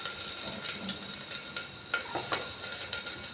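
Chopped ginger going into hot oil with whole cumin seeds, producing a soft crackling sizzle with several light stirring clicks and scrapes, close and moderately quiet.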